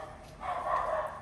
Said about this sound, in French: Désolée pour le chien qui aboie